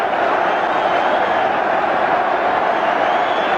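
A large Arsenal football crowd at the North Bank during a late-1980s North London derby against Tottenham, roaring and applauding in a dense, steady wall of sound from start to finish.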